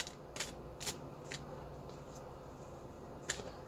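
Tarot cards shuffled in several short riffling bursts, soft and close, with pauses between them over a quiet background.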